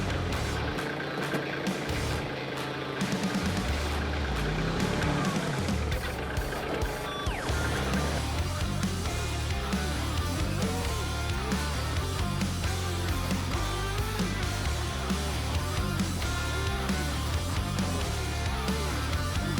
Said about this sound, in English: The tractor easily gets into the limestone pile.